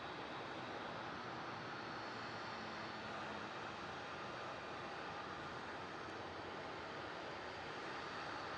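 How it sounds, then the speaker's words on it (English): Aircraft landing at Melbourne Airport on a light tailwind, heard as a continuous broadband engine roar with steady intensity throughout, distant and without talk. "he's landing on a tailwind"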